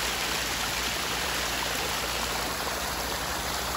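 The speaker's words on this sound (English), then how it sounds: "I love the little areas where the water goes under rocks." Water from a pondless waterfall flows and trickles over and under rocks, a steady, close, continuous rushing babble with no voices.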